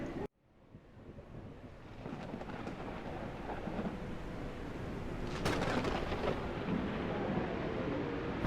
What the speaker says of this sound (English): The storm is so loud.